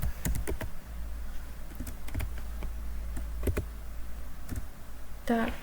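Linux commands are typed on a computer keyboard as a run of sharp key clicks in short bursts, with a steady low hum underneath and a brief tonal whine near the end.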